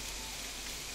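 Heavy monsoon-style rain pours down steadily around a house, a dense, even hiss of drops with no pauses, close and fairly loud throughout the short stretch.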